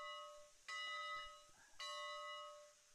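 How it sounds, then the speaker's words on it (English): A Climax locomotive bell in the train game Railroads Online rings twice, each clear metallic clang hanging with a long, bright sustain over a steady tonal hum. "It sounds just like the Climax's bell."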